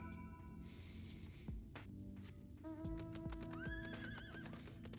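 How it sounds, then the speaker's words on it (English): A video game horse whinnies in a rising, shrill call while hooves clip-clop in a few distinct thuds, all set over a quiet, steady game ambience. "The horse."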